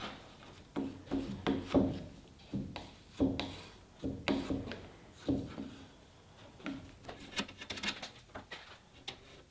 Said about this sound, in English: I came back and sanded the surface smooth. Initially I sanded it by hand